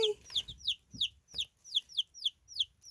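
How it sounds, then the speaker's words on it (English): Baby chicks peep in a steady stream of high, rapid chirps, about three or four a second, close and fairly soft, with a faint low murmur beneath. "So there's our chicks."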